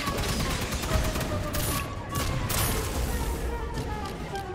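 Rapid automatic gunfire from the video game Aliens: Fireteam Elite rattles continuously and loudly for the whole stretch, dense bursts with occasional heavier booms layered in.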